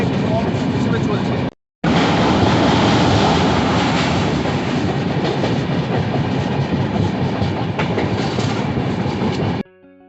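Kanchankanya Express rolling slowly along the rails, a steady loud rumble with faint clickety-clack from the wagons, broken by a brief silent gap early on.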